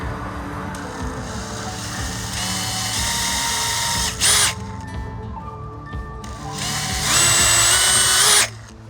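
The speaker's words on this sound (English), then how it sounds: "I've got a drill bit that's just a touch larger" A power drill bores into wood with a slightly larger bit during feed storage work, its motor whining steadily with pitch shifts as the bit bites, surging louder twice in short bursts, close and without talk.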